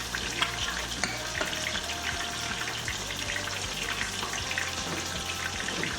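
Vinegar sauce for fish escabeche bubbles and sizzles steadily in a hot pan with red bell pepper, a close, continuous crackle with occasional louder pops.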